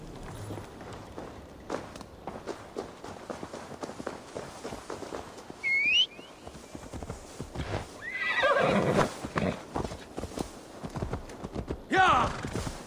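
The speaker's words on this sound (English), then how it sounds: "Now to deliver Magni his horse." A horse whinnies a couple of times over a busy Assassin's Creed Valhalla game soundscape, with clopping hooves and footsteps running underneath.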